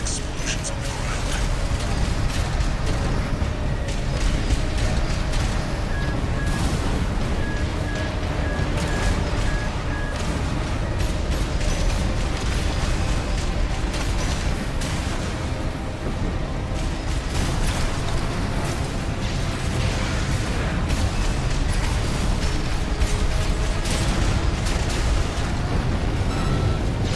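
Dense, continuous combat rumble from an Armored Core video game, with repeated booming explosions on the ground and bursts, loud and steady throughout, with voices talking over the action.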